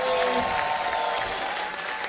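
Church audience applauding the Apex Kids nativity show, a dense, fairly loud wash of clapping with some faint cheering and voices mixed in.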